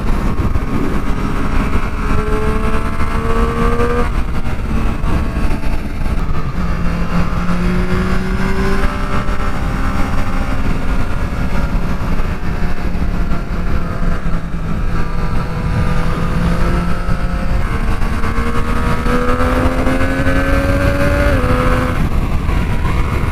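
A Triumph Street Triple 765 motorcycle rides along with a loud, steady engine drone that shifts in pitch through gear changes, sustained close up throughout with wind noise.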